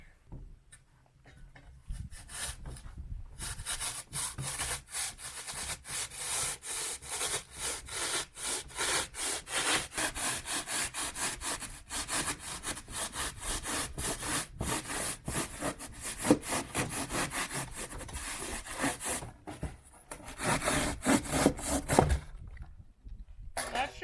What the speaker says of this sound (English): I'm going to go ahead and saw off the bottom first